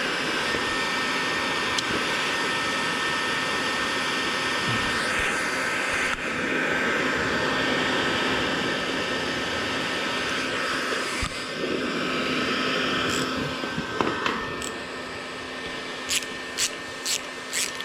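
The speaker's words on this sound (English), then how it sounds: "It can be good just to leave the heat gun on." A heat gun blows steadily to loosen a stuck bolt, a loud continuous whooshing drone that holds level throughout, with a few faint clicks near the end.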